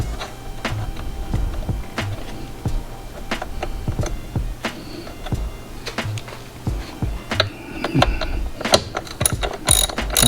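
Repeated ratchet clicks while a wrench tightens the negative battery cable terminal on a BMW, brisk irregular bursts of sharp ticking with short pauses between strokes, close up.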